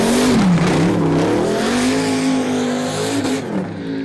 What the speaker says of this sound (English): A screamer pipe on a well-sorted turbo LS sounds Mint.